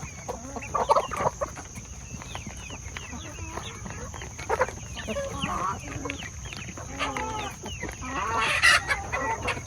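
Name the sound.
backyard chickens clucking at the coop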